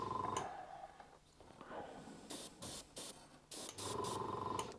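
Airbrush spraying weathering paint onto a model railway wagon, several short hissing bursts of spray in an uneven rhythm, close and fairly loud, with steady airbrush hiss at the start and end.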